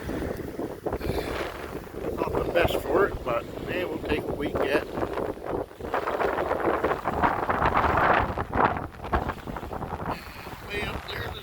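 Wind gusts steadily across a microphone by choppy water at a striper fishing spot, a loud buffeting rush with someone talking over it.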